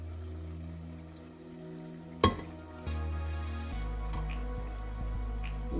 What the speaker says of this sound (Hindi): इसे थोड़ा सा हम भून लेंगे, 2 मिनट भून लेंगे इसे